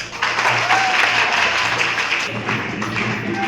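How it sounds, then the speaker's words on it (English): Crowd applause at a school oath ceremony after a new head girl is announced, dense steady clapping filling the whole stretch at close range, loud and continuous without pause. "please give a big round of applause"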